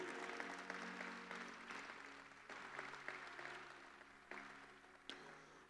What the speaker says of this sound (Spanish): Dale un glorioso aplauso a Cristo Jesús.